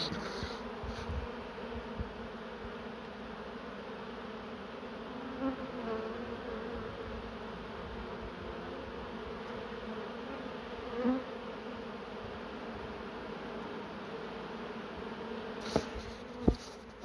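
A honeybee swarm, an afterswarm being gathered, buzzes steadily at close range, a dense continuous hum holding even throughout with a few louder passes of individual bees near the end.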